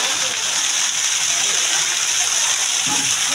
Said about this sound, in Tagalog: Yung tubig galing taas.